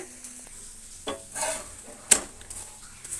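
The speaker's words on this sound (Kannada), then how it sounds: "ಆ ಕಡೆ ಈ ಕಡೆ ತಿರುಗಿಸಿ ಈ ರೀತಿ ಫ್ರೈ ಮಾಡಿಕೊಂಡ್ರೆ ತುಂಬ ಚೆನ್ನಾಗಿ ಇರುತ್ತೆ" Thalipeeth frying in a pan on half flame, with a soft sizzle beneath scraping and clinking as a spatula turns it, one sharp metallic tap standing out mid-way.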